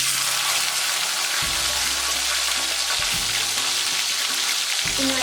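Vadagam and garlic fry in hot oil for a Tamil kuzhambu tempering, a steady loud sizzle with low thuds as ingredients drop or get stirred in the pan, no voices.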